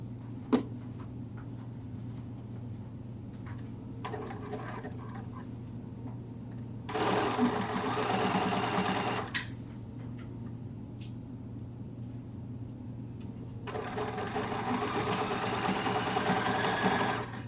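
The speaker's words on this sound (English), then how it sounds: "So I'm stitching that binding on the back." A sewing machine stitches binding onto the back of a minky quilt in two bursts of fast, even whirring, with faint ticks and handling sounds between them and a steady low background hum.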